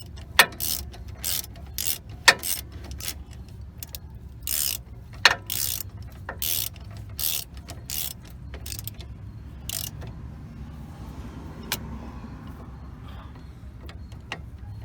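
A ratchet wrench clicks in quick bursts of sharp ratcheting strokes while upper control arm bolts are tightened on a 2000 Ford Ranger, close up, with irregular pauses between runs and no talk.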